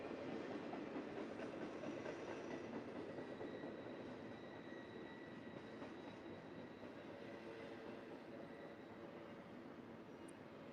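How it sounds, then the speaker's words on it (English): A long BNSF freight train rumbles past steadily in Mukilteo, Washington, with a broad, continuous roar and faint rhythmic clatter, holding at a constant level throughout. "those BNSF trains tend to be very long."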